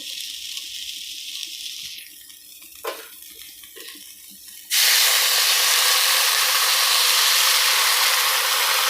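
Water poured into a hot pan of fried cauliflower in a home kitchen, a sudden loud, steady hissing rush of steam and spray that starts after a few quieter clinks and holds at full strength.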